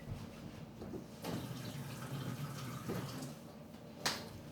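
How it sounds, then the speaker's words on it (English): A sink tap runs softly for a quick hand wash in a home kitchen, a faint, uneven trickle and splash with a few louder bursts and a sharp clatter near the end, no voices. "Wash my hands a minute."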